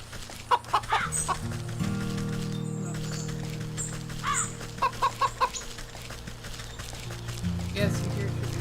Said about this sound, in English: Yes, you hear chickens.